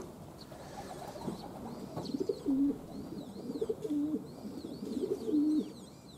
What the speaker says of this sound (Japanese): うちの鳩75分もう過ぎたんですけども、まだ元気よく飛び回ってます。